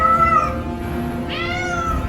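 A house cat meows in two drawn-out calls, the first longer and the second rising sharply, loud and close with no talking.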